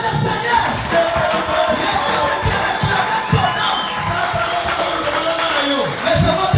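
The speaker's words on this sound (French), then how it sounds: "Applaudissez le Seigneur." A church congregation at a lively service claps and cheers together, a dense, steady wall of crowd noise with rhythmic clapping under voices.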